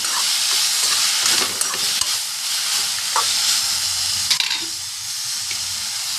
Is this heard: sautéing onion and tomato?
yes